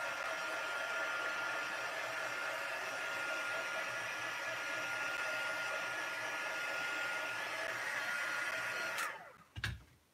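A heat dryer blows steadily at close range to dry ink on a Stampin' Up! mini card, a loud continuous hiss and whir that cuts off abruptly near the end.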